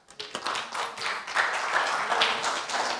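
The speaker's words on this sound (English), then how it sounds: "Let's give the Lord a clap." A church congregation claps for the Lord together, a dense and steady wash of applause with scattered individual claps standing out, starting thin and then building to a full, sustained level with no talking.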